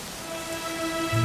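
Steady game rain falls softly in Dragon Quest XI, a continuous hiss beneath sustained musical tones, swelling slightly toward the end with a low rumble entering.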